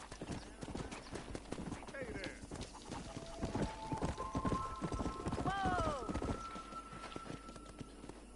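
A horse gallops in Red Dead Redemption, its rhythmic clip-clop hoofbeats steady and close throughout, with a brief whinny and someone talking over the ride.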